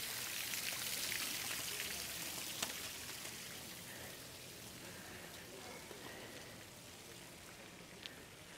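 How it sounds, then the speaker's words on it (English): Water pouring and splashing in town waterfalls in Tilburg, a steady broadband rush close by with faint street ambience underneath and no clear speech. "I like these waterfalls so much."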